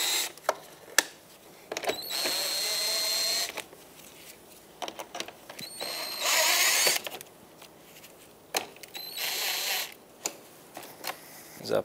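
Phillips screws being backed out of the grille trim on a 2014–2021 Mazda 6 with a power driver, in several short whirring bursts separated by clicks and handling noises.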